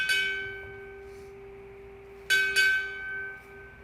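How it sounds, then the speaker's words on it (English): A ship's bell rings at a naval Chief Petty Officer pinning ceremony: one clear strike with a long ringing decay, then two close strikes later, bright tones lingering in a quiet hall. "Strike 2 bells."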